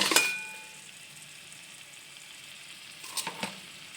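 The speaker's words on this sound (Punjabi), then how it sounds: "ਅਸੀਂ 5 ਮਿੰਟ ਘੱਟ ਤੋਂ ਘੱਟ ਇਹਨੂੰ ਭੁੰਨ ਲਿਆ ਤੇ ਸੇਕ ਜਿਹੜਾ ਸਿਮ ਤੇ ਰਹਿਣ ਦੇਣਾ" Mixed vegetables fry in a pan on low heat, a soft continuous sizzle with a few brief stirring clatters at the start and near the end, no talking.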